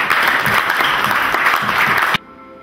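An audience at an award ceremony claps in steady, dense applause that stops abruptly near the end, leaving a quiet room.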